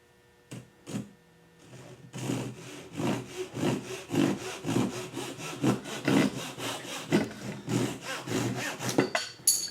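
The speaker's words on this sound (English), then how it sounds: "Let me use my trusty Dazuki and I'll cut that off right here." A Dazuki hand saw cuts through wood in quick, rhythmic back-and-forth rasping strokes, close and clear, speeding into a steady stroke pattern after a few tentative starts.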